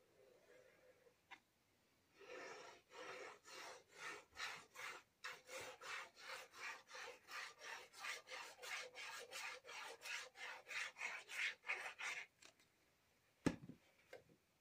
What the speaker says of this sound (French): On étale un peu la colle.